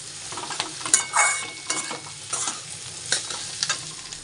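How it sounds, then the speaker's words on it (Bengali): Chickpeas fry in a pan with tomato and coriander leaves as a spatula stirs them, producing bursts of crackling sizzle and scraping strokes in an uneven rhythm, close and clear with no talking. "এবারে একটু নেড়ে দিই"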